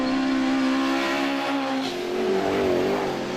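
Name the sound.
historic touring race cars passing on track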